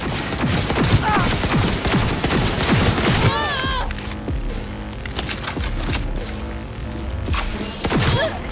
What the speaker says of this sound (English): This rifle just shoots like a machine gun